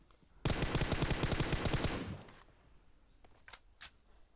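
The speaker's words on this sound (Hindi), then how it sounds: "पीछे से गोली चल रही होती है" A rapid burst of automatic gunfire in a battle royale video game lasting about two seconds, loud and close, followed by a couple of faint isolated shots.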